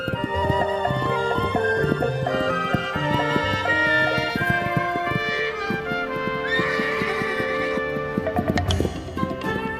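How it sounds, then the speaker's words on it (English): Wild mustang stallions in the open range of the American West neigh and whinny over a layer of music, with a few hoof clip-clops mixed in; the calls stay fairly prominent throughout. "Stallions spar and court young mares in a drama as old as the hills."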